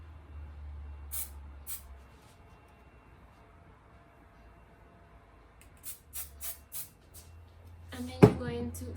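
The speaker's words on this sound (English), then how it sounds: "spray it a little bit with this volume spray." A few short, airy hisses from a hair volume spray can: two quick bursts, then a cluster of four, over a faint low hum.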